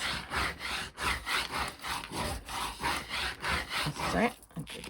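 Leather wallet pieces are rubbed hard, producing a steady run of about a dozen rhythmic back-and-forth scrubbing strokes, close and fairly loud, with a brief voice near the end.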